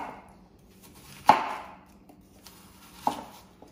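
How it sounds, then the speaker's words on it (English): Two sharp knife chops through apple on a cutting board, one near 1.3 s and another near 3.1 s, each a crisp close thud with a short decay, separated by quiet kitchen background. "And then we'll just chop them sideways as well."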